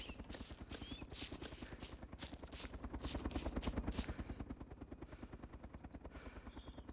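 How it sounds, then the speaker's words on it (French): A helicopter in the DayZ Epoch video game on the Napf map gives a steady rapid rotor thump, fairly faint and constant, swelling slightly in the middle with no talk over it. "Il retourne vers l'hélico."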